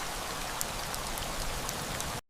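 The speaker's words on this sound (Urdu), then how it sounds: "زوردار بارش شروع ہو گئی۔" Heavy rain pours down steadily in a dense, even hiss with faint scattered drops, loud and close, with no voices.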